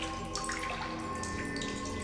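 Loud, steady rush of water pouring from a cave spring in The Solus Project, a continuous splashing flow with bright spray that holds even throughout, no voices over it.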